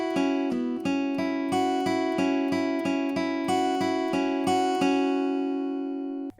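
The plucked guitar riff from a song plays as a repeating pattern of clean, evenly spaced notes over a low sustained drone. It is close and steady, and the final notes are left to ring out.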